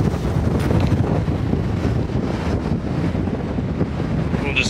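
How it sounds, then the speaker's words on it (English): Strong wind buffets the microphone on an exposed cliff top above a lake, a constant loud roaring rush with low rumble that never lets up, with no speech over it. "Wind."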